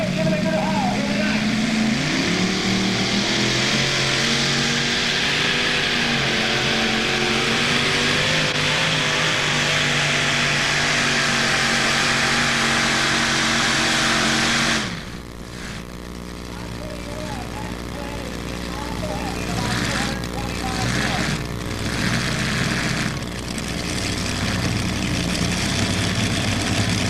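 A modified pulling tractor with triple 454 Sloan Chevrolet engines, about 4,000 horsepower, roars loud and sustained through a full hauling run at a tractor pull, then drops off abruptly to a lower idling rumble with crowd noise and announcer talk.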